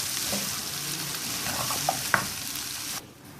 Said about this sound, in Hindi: इसको हम अच्छे से स्टर कर लेंगे।